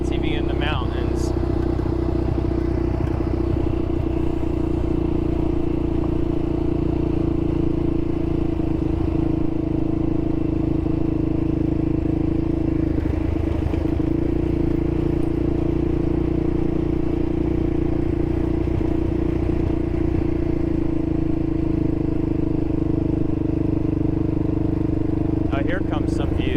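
A steady droning ATV engine runs throughout a ride on a mountain trail, close and continuous with a constant hum, clattering and rattling over the terrain, with a person talking over it.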